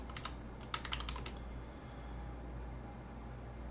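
A password is typed on a computer keyboard in two short bursts of quick, crisp key clicks, close but quiet, followed by near silence over a low steady hum.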